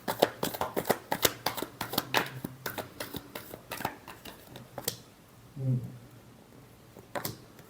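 Tarot cards being shuffled, a quick run of crisp riffling flicks for about five seconds, then a pause and a final brief ruffle, close and clear with no talk.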